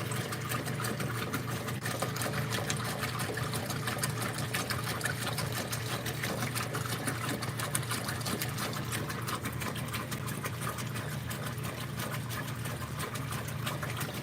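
A Whirlpool direct drive washing machine agitates a load of coloured clothes, making a continuous, steady mechanical churn and whir with sloshing water, close and unbroken, with no talking.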